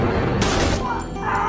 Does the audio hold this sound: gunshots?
yes